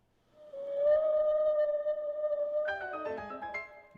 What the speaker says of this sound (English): Goddamn whale.